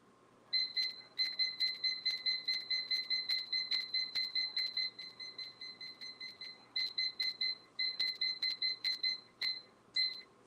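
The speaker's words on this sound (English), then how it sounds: "So I'm gonna set my timer." A kitchen timer is set for 40 minutes while an apple crisp bakes at 350 degrees. Its crisp electronic beeps come in quick trains of close, bright chirps with a few short pauses, loud and alone with no talking.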